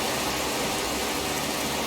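Rain falling in the video game Skyrim, a dense, loud, continuous hiss of steady downpour with no breaks, heard alone.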